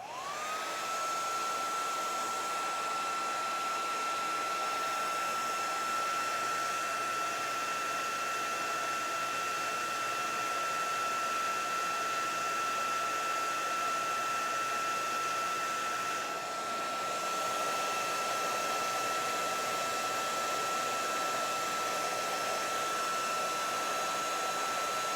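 A dryer blows steadily over watercolor paint on a card, a loud, even whirring drone with a high whine that holds for the whole stretch, close and uninterrupted, with no voices.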